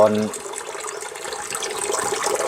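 Water splashes and trickles as it is poured into pork intestines to wash them, a steady light wash of liquid that begins after a short spoken sound at the start.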